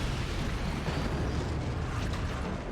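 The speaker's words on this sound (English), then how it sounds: "Shotgun blast coming in here." Shotgun blast striking a fort in the physics-based RTS game Forts, a dense roaring boom of explosive noise that stays loud and sustained for a couple of seconds with no talk over it.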